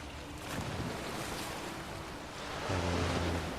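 Ocean waves surge and wash steadily at sea in The Witcher 3 video game, a continuous rolling surf with wind that swells louder toward the end, no voices over it.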